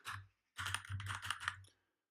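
A short burst of typing on a computer keyboard while entering a folder name, quick close key clicks in two clusters separated by a brief pause, with no talking.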